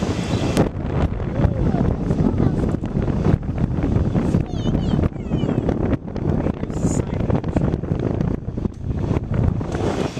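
Gusty wind buffets the microphone on a breezy high spot at Put-in-Bay, a continuous loud rumbling roar throughout.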